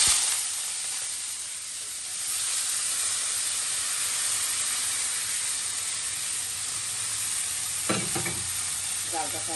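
Food drops into hot oil in a home kitchen pan and sizzles steadily with a loud, constant frying hiss, with a few brief stirring clatters near the end.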